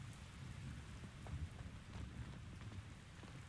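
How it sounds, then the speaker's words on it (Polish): Soft, steady rainfall in the video game Hogwarts Legacy patters faintly over a low rumble, with no voices. "Na niego deszcz pada."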